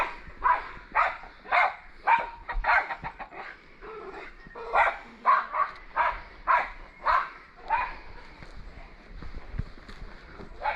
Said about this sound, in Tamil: அதனால ஒரு நாய் ஒன்று கத்திட்டு இருக்கு.